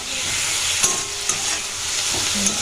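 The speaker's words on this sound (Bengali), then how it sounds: "এবার আঁশটা আমি জোর দিয়ে দেব পুরো একদম জোর দিয়ে এটা ভেজে নেব" Fenugreek greens frying hard in a pan give a constant close sizzle and hiss, broken by a few sharp scraping clicks as the leaves are stirred; no voices are heard.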